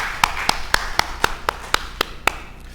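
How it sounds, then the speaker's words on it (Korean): Clapping rises during a Sunday church worship service, about ten sharp, evenly spaced claps in a quick steady rhythm, crisp and close, fading slightly toward the end. "하나님께 영광의 박수 올려드리겠습니다."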